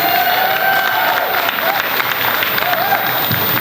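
Audience applause for Vandy Tall at a live performance event: a loud, continuous wash of many hands clapping throughout, with scattered cheers and voices blended into the crowd noise.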